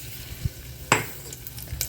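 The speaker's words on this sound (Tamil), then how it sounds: "முந்திரியும் திராட்சையும் வறுத்து எடுத்தாச்சு." Cashews and raisins frying in ghee for sweet pongal, a soft steady sizzle with a few sharp stirring scrapes and clinks of a spoon against the pan, close by.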